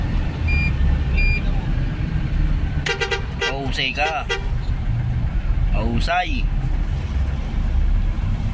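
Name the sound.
road traffic in Manila at night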